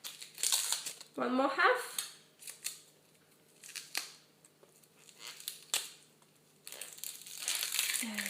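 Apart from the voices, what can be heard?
peeling dry outer skin off a vegetable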